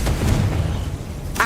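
The Confringo fire spell in Hogwarts Legacy erupts in a deep, rumbling explosive boom, close and loud, followed by a brief sharper burst at the end.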